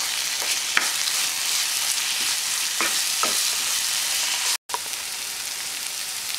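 Chole masala cooking on a low flame as red chili powder is mixed in, a dense steady sizzle close by with occasional spoon scrapes against the pan and a brief cut to silence near the end, no talking.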